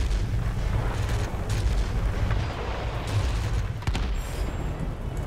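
Aircraft guns fire during a dogfight in World of Warplanes with a BF 110 C-6 or XF4F-3, heard as a dense, continuous low rumble of rapid gunfire over engine noise.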